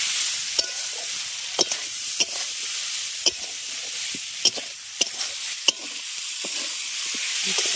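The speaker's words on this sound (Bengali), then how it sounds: "এবার মশলার সঙ্গে ডাটা আর আলুটাকে খুব ভালো করে একটু কষিয়ে নেবো" Potatoes and drumstick pieces are stir-fried with spices in a pan, giving a continuous sizzle broken by sharp irregular scrapes and clanks of the stirring utensil, close and loud with no talking.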